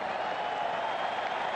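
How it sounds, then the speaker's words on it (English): A stadium crowd applauds at a Juventus–Barcelona friendly football match, a steady, dense wash of clapping and crowd noise that holds evenly throughout without breaks. "everybody here is standing to applaud because it has been utterly remarkable"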